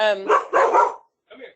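A pet dog barking several times indoors, close and loud, with short sharp yips followed by a pause and a softer final bark.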